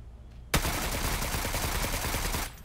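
A sustained burst of automatic gunfire from the video game PUBG starts abruptly and runs for about two seconds of rapid, even shots before cutting off.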